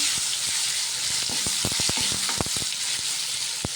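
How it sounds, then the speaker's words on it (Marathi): Chopped tomato sautés in a hot pan for okra masala, giving a steady, close sizzle with scattered pops and spatters throughout, and no talk. "टोमॅटो मी ना एका समोर उभा कापून घेतलेला आहे तो टाकायचा तर इथे मी आहे ना खाली चांगला परतून घेते"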